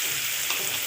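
Chopped onion fries in hot mustard oil over tempered spices for a pointed gourd and prawn curry, giving a steady, close, hissing sizzle without talk.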